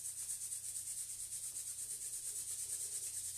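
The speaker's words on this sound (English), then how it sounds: "rub your hands together, rubbing between the fingers as well" Soft, steady rubbing of hands together, palms and between the fingers, a faint continuous hiss with a gentle back-and-forth pulse.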